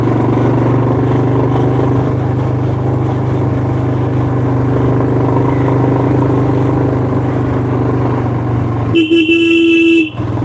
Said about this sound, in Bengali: ওই কোলাহলটা আমরাই করছি আমরাই হর্ন বাজাচ্ছি